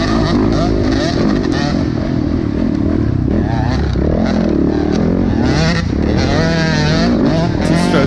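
Two-stroke dirt bikes race on a mountain-top track during an amateur motocross event, several engines screaming and revving loudly and close by, with ringing two-stroke pitch sweeps and clattering over continuous engine roar.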